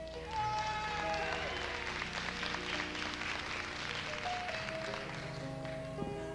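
An audience at a Miss Gay America evening gown competition claps steadily, a dense, sustained patter of applause filling the hall with music-like tones and an announcer's voice layered on top.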